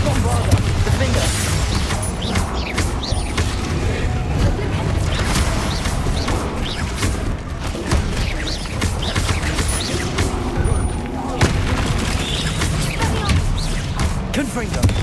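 Confringo and Bombarda spell blasts in Hogwarts Legacy, a dense run of booms, crashes and impacts during a hectic fight, all mixed under near-constant excited talking.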